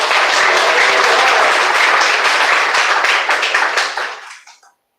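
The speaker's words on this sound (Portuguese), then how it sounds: "Pode glorificar Ele com as palmas." Church congregation applauding, a loud, dense burst of many hands clapping up close that holds steady for several seconds and then quickly dies away to silence.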